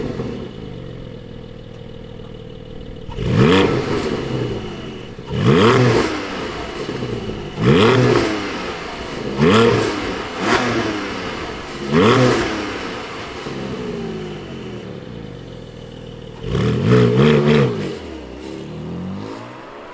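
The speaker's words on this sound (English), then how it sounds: "let's fire this thing up and hear what it sounds like" A Porsche Cayman 718 GT4 mid-engine sports car starts up, then revs in a series of sharp bursts with brief idles between them. The blips are loud and close, with a final rev near the end.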